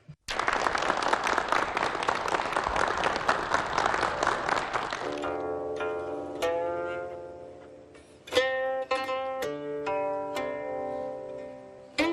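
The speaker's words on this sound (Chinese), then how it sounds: "让我们掌声欢迎先生。" A studio audience breaks into loud, sustained applause to welcome guqin master Li Xiangting onto a television program; after about five seconds the clapping ends and clear plucked string notes ring out alone.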